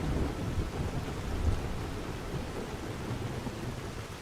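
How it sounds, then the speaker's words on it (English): Thunder rolls beneath steady rain during a thunderstorm in the video game Skyrim, a continuous low rumble and hiss at even loudness, with one slightly stronger swell partway through and no talking. "Nice storm."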